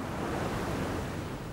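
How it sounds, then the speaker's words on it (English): Huge Pacific swell waves around thirty feet breaking in the open ocean, heard as a steady, dense roar of surf and wind with no distinct individual crashes, continuous and fairly loud throughout. "on one of these waves today that you'll see break, the range is somewhere in the 30-foot base range."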